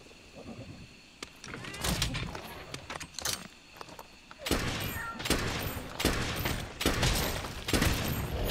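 Bursts of gunfire from a gun in the video game Monster Hunter World, sharp irregular shots in clusters, growing denser and louder in the second half.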